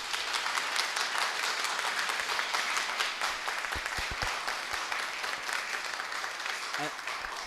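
An audience at a seminar applauds with dense, sustained clapping throughout, a few louder individual claps standing out near the end.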